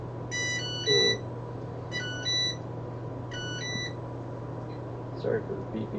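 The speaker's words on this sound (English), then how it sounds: "Sorry for the beep beep beep." Electronic reminder beeps sound in three short repeated bursts, each a quick cluster of high tones, over a steady low hum and quiet room noise, with brief talking in between.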